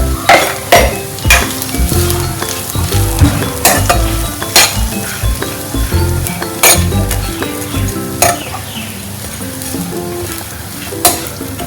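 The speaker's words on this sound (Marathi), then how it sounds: "अशी ह्याला 1 ते 2 मिनिटं तुम्ही असं व्यवस्थित परतवून घ्या" Moth bean sprouts for misal stir-fried in oil in a pan, with a loud, steady sizzle and repeated sharp clinks and scrapes of a spatula against the metal pan throughout.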